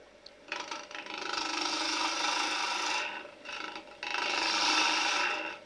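A lathe turns a small wooden tea light holder on a mini chuck as a gouge rubs its bevel and cuts, a steady soft scraping rasp that swells and dips in two long passes.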